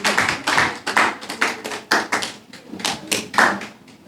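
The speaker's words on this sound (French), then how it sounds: "Sous vos applaudissements, s'il vous plaît." A small audience at a hospital ceremony for World Family Doctors Day gives scattered, uneven applause for a patient. Close hand claps come in irregular bursts over about four seconds, with no talking.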